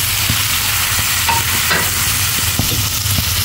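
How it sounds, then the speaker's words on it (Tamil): Chopped tomatoes added to a hot pan and sautéed for tomato rice, a loud close sizzle with quick rhythmic stirring scrapes throughout, no speech. "நம்ம கட் பண்ணி வச்சுருக்க தக்காளி ஆட் பண்ணிக்கலாம்"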